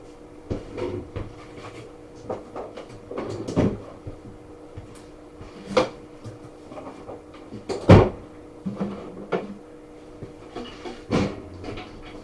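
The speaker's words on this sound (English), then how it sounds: "Then I'm going to shut the drawers." Several Milwaukee Packout tool storage drawers slide and thump shut one after another, with scattered clunks and rattles at an uneven pace, fairly close by.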